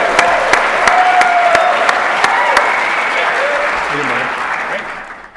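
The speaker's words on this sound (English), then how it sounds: "Give him a nice, warm round of applause for Graham Leslie." Warm, steady applause from a pitch competition audience welcoming a startup contestant, sustained and fairly loud before fading out near the end, with a voice speaking faintly through it.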